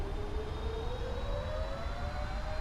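Boeing 777-300ER jet engines in a flight simulator spool up toward takeoff thrust, a loud steady roar with a rising whine climbing in pitch and a thin high tone above, no talk.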